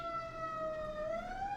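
An emergency vehicle siren outside, a faint distant wail rising and falling smoothly beneath a quiet room hum.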